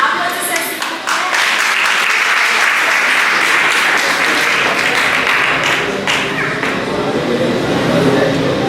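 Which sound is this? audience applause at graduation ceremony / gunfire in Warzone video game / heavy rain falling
audience applause at graduation ceremony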